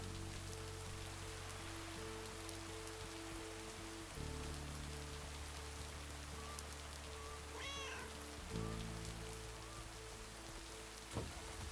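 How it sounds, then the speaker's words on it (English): A cat meows in the video game Lake, one brief meow sounding midway over a steady, soft patter of rain ambience. "Cat."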